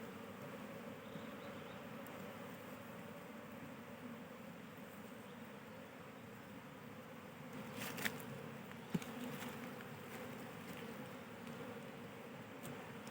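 Honeybees hum in a steady, dense drone around hive frames being handled, a continuous close buzz with a couple of brief clicks or knocks near the middle.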